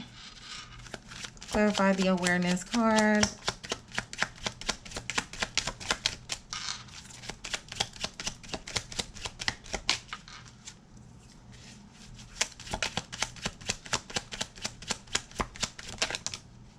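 Tarot cards are shuffled in a rapid, crisp patter of riffling snaps that runs for many seconds, with a brief spoken voice near the start and the shuffling continuing alone afterward.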